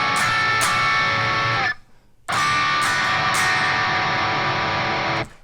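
Distorted electric guitar chords in a drop tuning ring out loud and sustained, cutting off briefly near the middle before a second strummed chord rings on to the end, with no talking.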